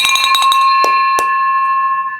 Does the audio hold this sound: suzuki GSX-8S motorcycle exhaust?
no